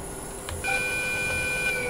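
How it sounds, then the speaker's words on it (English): Train running in the Train Simulator game on the Tohoku line, a steady rolling rumble with faint high whistling tones that thicken about two-thirds of a second in and hold alone to the end. "listen to that. This is a nice train."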